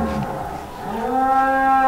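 A jumbo cow, about seven years old, gives a loud, close moo that starts low and rises into a long drawn-out tone, with no talking over it.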